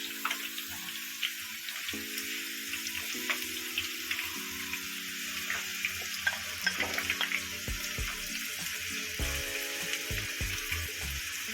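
Onions fry in hot oil in a pan, a steady close sizzle and crackle running throughout with a few soft stirring knocks and a faint tonal hum underneath.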